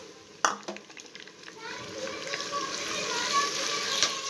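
Chicken pieces fry in hot oil for a chicken and vegetable macaroni, a bright sizzle that builds after a sharp clatter as they drop into the pan, with stirring clinks throughout.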